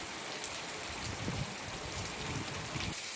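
Heavy rain pours during a thunderstorm in Lasalgaon, Nashik, a dense, steady rushing wash with faint patters and splashes throughout and no distinct thunderclap.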